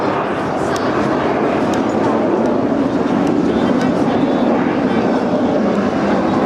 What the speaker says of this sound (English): The aircraft display today is designed to show the jet's manoeuvrability and its high performance for a straight-wing aircraft.